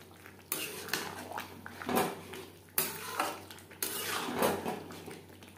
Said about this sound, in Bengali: এঁচোড়ের সাথে বেশ ভালো করে মিক্সড করে দেব